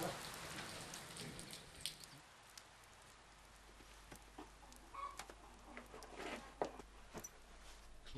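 Steady rain falls outdoors at a mountain cliffside road construction site in China, a soft continuous patter with scattered drip-like ticks and faint bird calls, moderately quiet throughout with no voices.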